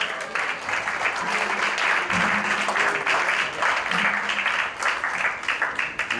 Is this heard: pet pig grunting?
no